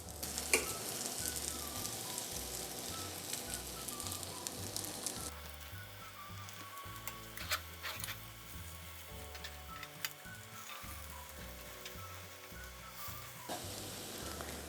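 Kuku sabzi, a Persian herb frittata, fries in a pan with a soft continuous sizzle and scattered crackles, quiet and steady under a faint background hum, no voices.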